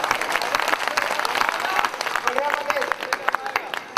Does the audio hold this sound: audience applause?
yes